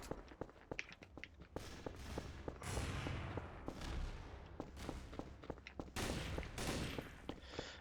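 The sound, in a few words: shotgun gunfire in video game Counter-Strike Source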